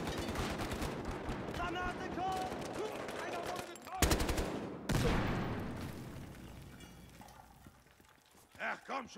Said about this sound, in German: Ich höre hier nur Schüsse, aber ich sehe hier keinen.